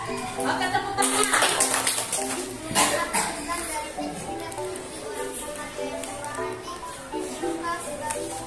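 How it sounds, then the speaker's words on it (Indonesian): Children in a sixth-grade Catholic religion class clap their hands together, a dense burst of many claps near the start that settles into scattered taps and busy classroom chatter and children's voices. "Oke, tepuk tangan."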